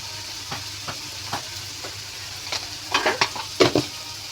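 Vegetable noodle filling for momos stir-frying in a pan with salt, a steady sizzle broken by scattered scraping stirs that grow busier and louder toward the end.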